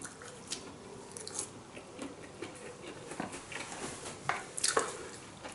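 A person chews a wild mushroom picked outdoors in the field, giving soft, irregular biting and squishy chewing sounds close to the ear, with faint clicks and moist crunches over a quiet background.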